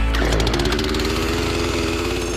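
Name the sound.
chainsaw cutting a neighbor's fence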